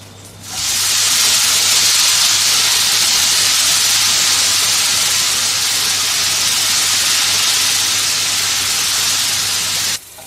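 Pirandai (adder's creeper) dropped into a hot pan with mustard seeds, giving a loud, steady hissing sizzle that bursts in and holds evenly for about ten seconds before cutting off.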